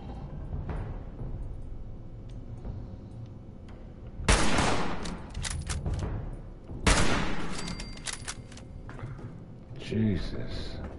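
Gunfire from the video game Fallout 76: two loud bursts of rapid shots, each lasting a couple of seconds, with someone talking before and between them.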